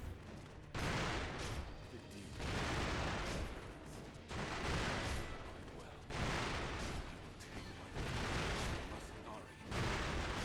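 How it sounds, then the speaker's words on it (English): Repeated firecracker bursts and heavy charged sword attacks in Sekiro: Shadows Die Twice, heard as loud clustered explosive pops and thuds that come in waves every couple of seconds, with a voice talking over them. "we spam the firecrackers and we do a charged R1, firecracker, charged R1"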